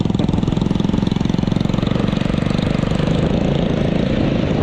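A motorcycle engine runs steadily close by, a rapid throbbing putter holding an even pace throughout.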